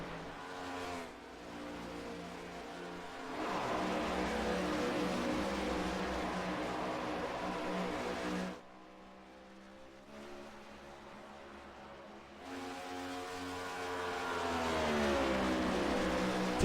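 Next Gen Cup race cars in a racing game at Chicagoland Speedway roar steadily at speed, the engine drone dipping to a quieter stretch midway before swelling back, with no talk over it.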